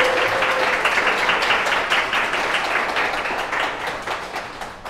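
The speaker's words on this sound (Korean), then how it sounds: "박수로 환영합니다." A church congregation at a Sunday service applauding to welcome a guest, steady dense clapping throughout, moderately loud and slowly fading near the end.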